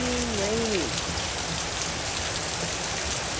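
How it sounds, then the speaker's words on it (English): Steady rain falls and patters on surfaces throughout, a dense even hiss that never lets up, with a brief tonal sweep near the start. "it's just raining"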